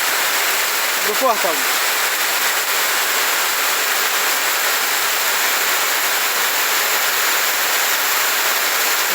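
Steady broadband rush of rainwater flowing down a street toward a house gate, loud and constant throughout, with a person speaking briefly over it.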